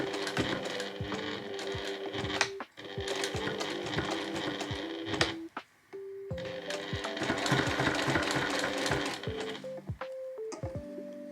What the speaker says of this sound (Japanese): ここの部分も返し縫いをしておきましょう